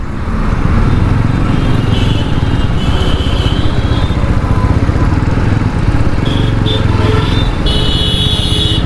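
A motorcycle engine runs loud and close with a steady rough rumble, and there are brief faint sounds over it.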